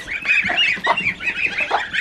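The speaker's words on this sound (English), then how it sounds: "The beautiful Emden geese that we bought." Several Emden geese honk loudly and repeatedly at close range on a homestead farm, their harsh calls overlapping in a continuous noisy chorus.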